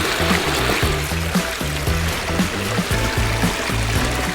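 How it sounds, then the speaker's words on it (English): Water runs steadily through a pondless backyard waterfall stream on a property in Brentwood, BC, a continuous close trickle and splash with a low rhythmic pulsing underneath, no talk. "We have a property with 2 pondless waterfalls here."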